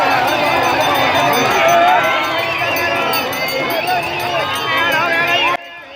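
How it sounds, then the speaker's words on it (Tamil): A crowd of devotees cheers and shouts at a temple festival honouring the dead, a dense, loud roar of many voices throughout that drops away abruptly near the end. "அங்கே பாருங்கள், பக்தர்கள் ஆரவாரம் போட்டு வரவேற்கிறாங்க."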